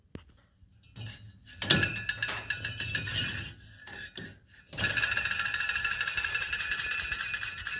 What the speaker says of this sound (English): You can hear it rubbing on the pad.